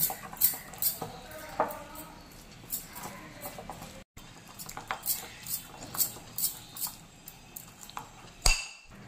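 A spoon scrapes and clinks against a bowl while spice paste of garlic paste, ginger paste and a little water is mixed, a steady run of close metallic taps and scrapes with no talking.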